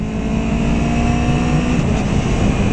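A 2017 Aprilia Tuono V4 1100 Factory motorcycle accelerating in third gear, a loud steady engine drone with wind rush, heard close from the rider's position without speech.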